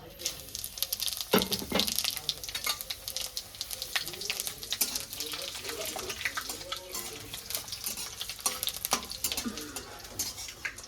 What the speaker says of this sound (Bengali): এই যে ফোড়নে দেবো পাঁচ ফোড়ন আর শুকনো লঙ্কা